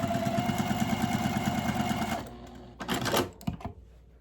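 A sewing machine stitches cotton quilt pieces together in a steady, fast mechanical chatter for about two seconds, then stops, followed by a few quieter clicks and handling sounds.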